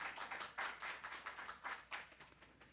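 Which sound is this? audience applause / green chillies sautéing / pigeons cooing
audience applause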